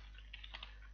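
A handful of quick, faint keystrokes tap out code on a computer keyboard, clustered in a short burst over a low, steady background hum.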